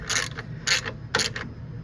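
A part is tightened down with a ratcheting tool while fitting an ABS wheel speed sensor on a 1993 Cadillac Fleetwood Brougham: three short, close bursts of rapid ratchet clicking over a low hum, with no talking.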